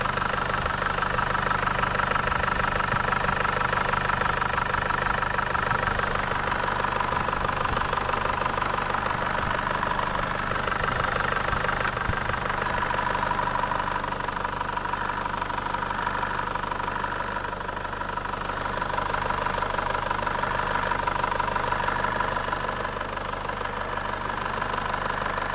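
Non-turbo Isuzu 4JA1 diesel engine idling after an oil and fuel filter change, a steady mid-pitched clatter holding even throughout with a slight knocking texture, close and continuous with no talk.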